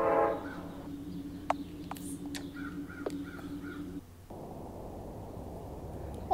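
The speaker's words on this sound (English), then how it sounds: "Yeah, the train is coming soon." A train arriving in the game Parasite Flower: crow caws over a quiet backdrop give way to a steady, loud rumbling roar that fills the last few seconds.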